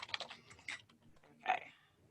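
A password is tapped out on a computer keyboard in a few short, quiet bursts of keystrokes with a pause between them and no talking.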